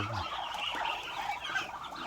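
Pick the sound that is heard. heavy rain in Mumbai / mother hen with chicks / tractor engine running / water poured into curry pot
mother hen with chicks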